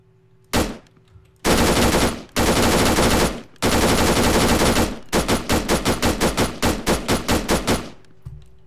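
Weapon gunfire in a video game with the Operation Trebuchet mod: a single shot, then long sustained automatic bursts, followed by a rapid string of separate loud cracks, each cut off sharply, close and dominant.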